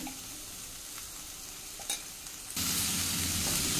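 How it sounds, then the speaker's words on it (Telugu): Ginger-garlic paste sizzles in a pan for chole paneer curry as it is stirred, a low crackle that jumps to a louder, denser hiss partway through, with a brief scrape and no voices. "అల్లం వెల్లుల్లి పేస్ట్ వేసేస్తాను."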